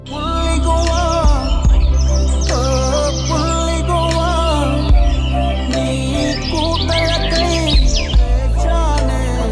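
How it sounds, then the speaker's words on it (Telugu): Dense, continuous chirping and calls of migratory birds at Pulicat fill the scene, many birds overlapping at once in a loud, busy chorus without pause. "వలస పక్షుల కిలకిలా రావాలు"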